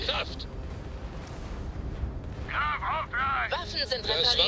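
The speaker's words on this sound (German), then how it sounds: "Ich werde hier die ganze Zeit nur beschossen." A starship under fire during a space battle in Starfield, with heavy booming impacts and explosions rumbling continuously, while sharper alarm-like electronic tones and bursts break in toward the end.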